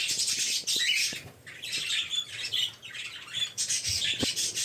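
A crowd of small caged birds, including young chicks, squawks and chirps continuously at close range, shrill overlapping calls with occasional fluttering.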